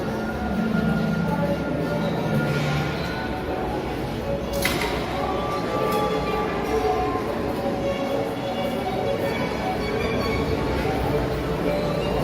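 A steady rumble of a train running on the rails with a constant broadband roar and occasional metallic clatter, loud and continuous throughout.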